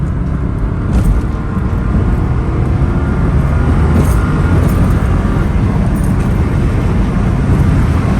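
Sustained loud engine roar from inside a stock 2022 Subaru BRZ pulling hard in second gear, a continuous droning rumble with road noise throughout.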